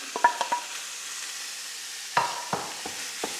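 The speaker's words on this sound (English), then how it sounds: "we're going to fry off the beef first" Beef is fried in olive oil in a pan over high heat, giving a soft, steady sizzle broken by a few close scrapes and taps of a utensil stirring the meat.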